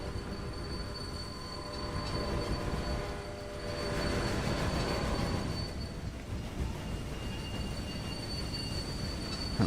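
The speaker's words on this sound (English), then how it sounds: "We've got 2 trains bringing the cocoa in." Trains roll along the tracks in the Railway Empire game on PS4, a steady continuous rumble of wagons and wheels with faint squealing tones, loud and close throughout without any talk.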